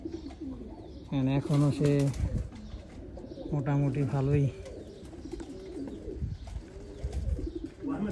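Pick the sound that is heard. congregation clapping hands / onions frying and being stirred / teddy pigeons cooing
teddy pigeons cooing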